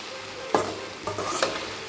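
A spoon stirs beans usili in a pan just after grated coconut goes in, giving a few short scraping strokes over a soft background sizzle, close and fairly quiet.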